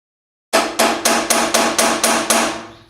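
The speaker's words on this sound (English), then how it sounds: "hammering on it." A hammer strikes metal eight times in a steady, evenly spaced rhythm, each blow sharp, loud and close with a short ringing decay, after a half-second of silence.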